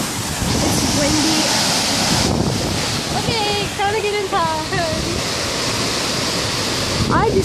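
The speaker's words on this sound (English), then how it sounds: "It's windy. It's windy." Strong Hurricane Michael winds batter boarded-up buildings in Panama City, Florida, producing a loud, continuous roaring rush of wind with buffeting gusts on the microphone and a few brief higher squeaks and whistles.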